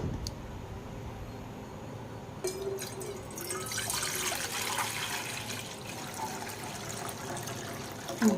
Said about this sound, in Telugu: దీంట్లో వాటర్ వేయాలండి.